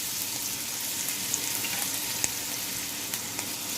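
Ginger paste fries in hot oil with cinnamon, two cardamom pods and two cloves, giving a steady close sizzle with a few sharp pops and crackles.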